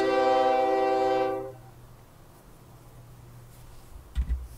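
Trains running on a rail network in the OpenTTD game: a loud, steady multi-tone train horn held for over a second, then a low rumbling rail hum continuing alone with a couple of brief knocks near the end.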